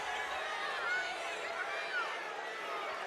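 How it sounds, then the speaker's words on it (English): Arena crowd at a girls' 4A state final basketball game between Farmington and Morrilton, a steady broad murmur of cheering and chatter rising slightly, with no single voice standing out. "the crowd's starting to get into it a little bit"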